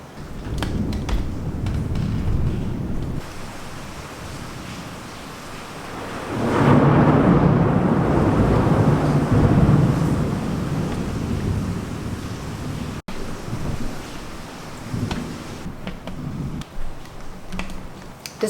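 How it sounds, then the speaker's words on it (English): A heavy thunderstorm in Singapore: steady hissing downpour with rolling thunder swelling into a long loud rumble midway, wind buffeting the microphone, and no voices. "Maybe I'll show you what this storm looks like real quickly."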